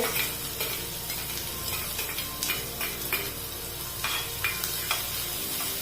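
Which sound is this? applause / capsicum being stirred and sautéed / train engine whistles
capsicum being stirred and sautéed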